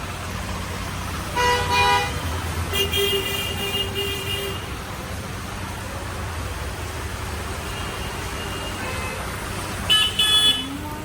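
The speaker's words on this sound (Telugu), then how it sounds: "మళ్ళీ ఇది ట్రాఫిక్ జామ్" Car horns toot in short bursts from vehicles stuck in a rainy traffic jam, two near the start and another near the end, set against a steady rumble of road noise.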